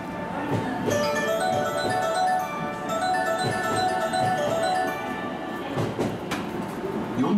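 A sky blue JR 103 series train pulls into Kyobashi station on the Osaka Loop Line, rumbling and squealing faintly along the platform, with station announcements and ambient platform noise throughout.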